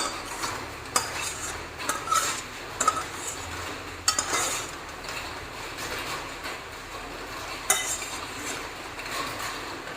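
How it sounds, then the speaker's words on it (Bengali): Egg curry with potatoes being scraped from a cooking pot into a serving dish, heard as repeated spoon scrapes and clinks of metal against metal over a soft continuous rustle. "এবার এই পাত্রের মধ্যে ঢেলে নিচ্ছি।"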